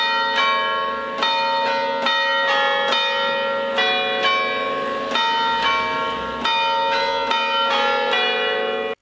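Church bells of Torrazza Coste, near Pavia in Italy, ring in a loud, steady peal of overlapping strikes that repeat in an even rhythm for the whole stretch, with no voices.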